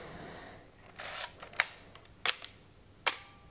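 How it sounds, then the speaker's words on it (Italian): Four crisp mechanical shutter clicks from Nikon FE and FM film cameras, spaced unevenly over a few seconds in a quiet room, the first slightly longer and softer. "l'otturatore meccanico è veramente bellissimo"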